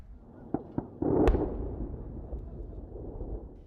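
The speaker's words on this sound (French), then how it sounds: "Le son des armes et l'explosion de bombes larguées par ce B-1 américain" A few sharp distant cracks of gunfire, then a heavy booming explosion of bombs dropped by a US B-1 bomber that rumbles and slowly fades, in Baghouz, Syria, February 2019.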